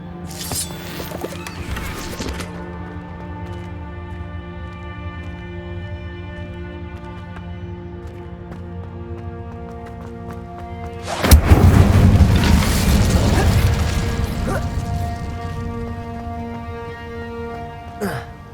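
Incendio fire spell cast in Hogwarts Legacy: a sudden loud burst of roaring, crackling flame erupts midway and rumbles on for several seconds over a sustained musical backdrop.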